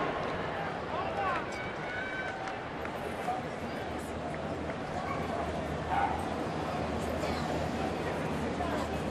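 Dogs bark and yip from the stands of a Pittsburgh ballpark crowd on pup night during a baseball game, scattered barks rising over a steady roar of crowd noise.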